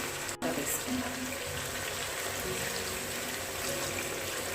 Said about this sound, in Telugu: ఇప్పుడు దీనిలో ఒక హాఫ్ లీటర్ వాటర్ ఇప్పుడు కలపాలండి